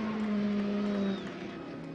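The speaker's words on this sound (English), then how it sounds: "Look at the smoke coming off of Gushi's car, standing on the throttle" Drift car at Road Atlanta during a 2011 Top 32 competition, driven at full throttle with tires smoking: a loud, sustained engine drone that holds steady, then drops slightly in level toward the end.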